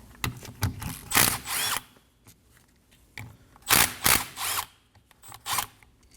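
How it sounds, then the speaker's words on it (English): A power tool with a 17mm socket backs out the two brake caliper bolts from a Nissan Armada front brake caliper on a bench, heard as several short, close bursts of whirring and rattling separated by brief pauses. "Using a 17mm socket, go ahead and remove these two bolts."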